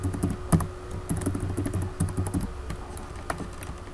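Quick bursts of computer keyboard typing as a password is entered, close and crisp clicking clusters for about two and a half seconds, then a few sparse taps.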